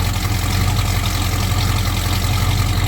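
Car engine idling through a cast iron exhaust manifold, stock exhaust and very stock mufflers, with a small cam fitted; a steady, low, even rumble throughout, close and moderately loud.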